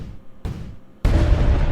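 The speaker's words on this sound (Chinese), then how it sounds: "一接触就爆炸" Explosion effects from an Isaac-style Plants vs Zombies video game: two short booming bursts, the second louder and sustained into a rumbling roar.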